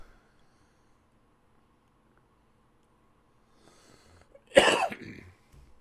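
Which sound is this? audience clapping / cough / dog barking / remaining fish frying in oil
cough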